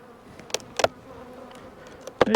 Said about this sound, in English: Quite a few bees in this one.